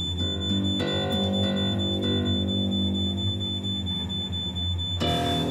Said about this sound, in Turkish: Niye ötmüş bu alarm?